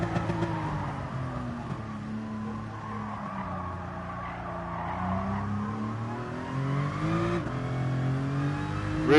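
A race car engine in a racing video game time trial, a steady, moderately loud drone whose pitch rises and falls as the car accelerates and shifts, with a sharp rev change near the end and no talking.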